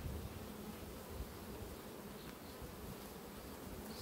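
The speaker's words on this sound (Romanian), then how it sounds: "Văd că cuibul destul de mare are albina." Honey bees hum and buzz steadily at an open hive in a beekeeper's apiary, a dense close swarm drone that holds at even loudness throughout with no talk.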